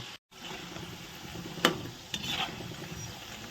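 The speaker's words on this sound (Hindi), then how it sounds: "अब निमकी को आप स्लो आंच में पकने दीजिए" Nimki frying in oil on a slow flame, a soft steady sizzle with occasional stirring scrapes and brief clinks, close but quiet.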